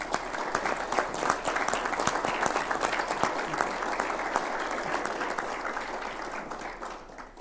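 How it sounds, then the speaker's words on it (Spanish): Sustained applause from a conference audience at an engineering association event, dense steady clapping that holds for several seconds, then thins slightly toward the end. "Yo quisiera pedir a todos un aplauso"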